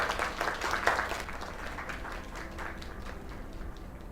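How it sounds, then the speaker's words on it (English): A small live audience claps in steady, fairly close applause that fades slightly toward the end. No voices can be heard. "Another round of applause."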